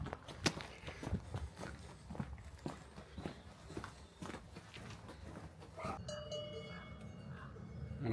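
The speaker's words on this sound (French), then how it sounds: "Alors ici, les vaches ont des cloches." Cowbells on cows in the Aosta Valley, a faint tinkling that comes in near the end while footsteps crunch steadily along a path in the foreground.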